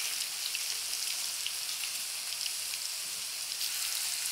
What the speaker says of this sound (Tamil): சூடாக்கிட்டு நாங்கள் இப்போ இந்த மீனை பொரிச்சு எடுப்போம்